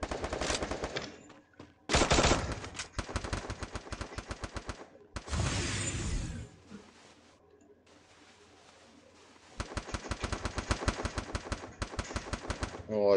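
Rapid automatic gunfire from a video game, coming in dense bursts of loud shots with short pauses, a sustained blast-like roar in between, and a quieter stretch before the shooting resumes.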